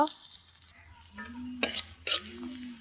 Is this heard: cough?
no